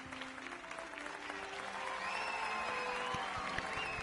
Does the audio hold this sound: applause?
yes